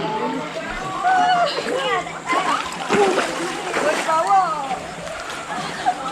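River water splashing and sloshing nearby, irregular bursts of splatter, with people talking over it, at a glamping park in Gopeng, Perak, Malaysia.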